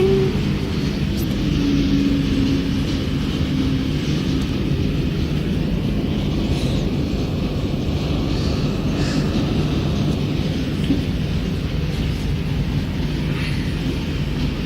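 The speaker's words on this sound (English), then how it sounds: "It says rinse here, but it's really on spin." A washing machine labelled rinse runs its spin cycle, a loud, steady low rumble and drone that holds at an even level throughout with no talking.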